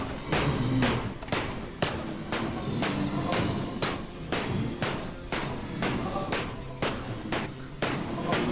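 A redstone crushing mechanism squashes blazes on a blaze farm in Minecraft, producing loud, regular thudding hits about twice per second, sharp and punchy, repeating steadily.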